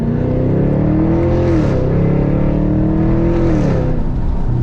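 A Chevrolet Camaro SS V8 revs steadily while driving, its loud, continuous engine note rising and falling twice in smooth surges, close and alone with no talk.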